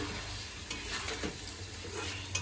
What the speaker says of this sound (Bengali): মাছটা দিয়েই যাই, আস্তে আস্তে কষানো হোক